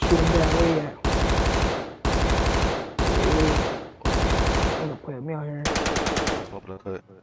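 Automatic weapon fire in the video game Call of Duty Cold War comes in about six loud, rapid bursts of roughly a second each, with a voice speaking briefly between the last bursts.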